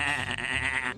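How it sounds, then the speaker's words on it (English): A goat character's bleating laugh from the video game Spy Fox in Dry Cereal, a wavering, quavering bleat filling the whole short moment, loud and close with no talk over it. "I do like William the Kid's laugh here"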